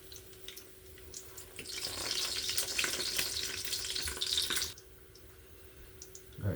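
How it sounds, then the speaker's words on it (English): Oil sizzles and crackles steadily for a few seconds as Jamaican-style roti fries in a pot, a close, bright hissing fry that swells, then drops away, with faint clinks around it. "So here I have my roti in the pot frying."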